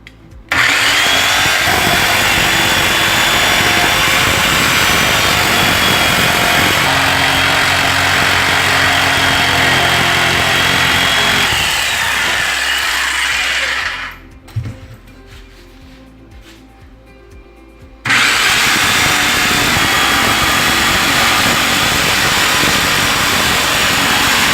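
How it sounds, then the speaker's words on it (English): A jigsaw cuts steadily through a kitchen countertop, loud and close, with a constant buzzing whine. The saw stops briefly for a few seconds and then starts up again and keeps cutting. "Okay, I've set up my jigsaw, put it in the pilot hole, and we're going to turn it on here and we're going to start cutting."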